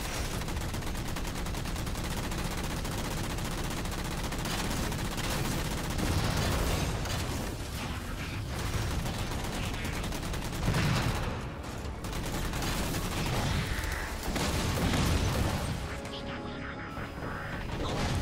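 Gunfire from a Halo 4 campaign battle against ground enemies and grunts, dense continuous shooting with bursts and blasts layered over game sound, loud and sustained throughout with a voice talking over it.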